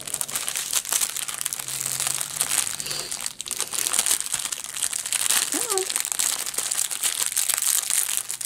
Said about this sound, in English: Sorry for the crinkles.